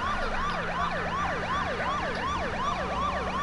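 A wailing siren in the H1Z1 video game cycles rapidly up and down in a steady repeating yelp, moderately loud and continuous over a low engine drone, with no talk.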